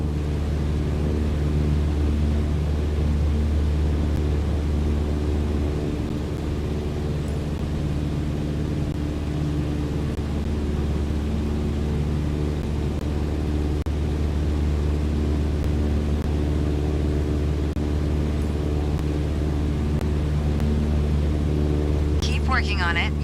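A steady airplane engine drone from Microsoft Flight Simulator holds a constant low hum for the entire clip while a flight instructor talks over it.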